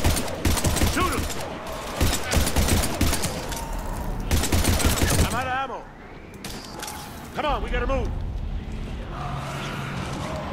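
Rapid bursts of gunfire in Mass Effect 3 crackle loudly for several seconds, then drop away while a person talks, with a few more shots returning near the end.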